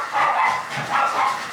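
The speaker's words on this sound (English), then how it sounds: "as Benjamin gets fired up about the dogs walking by outside the garage" A dog barks excitedly inside a garage at dogs passing outside, a couple of sharp yappy bursts close by with no talking.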